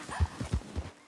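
A collapsed horse in Red Dead Redemption 2 lets out four heavy, low snorting thuds in quick succession, close and fairly loud, with no talk over them.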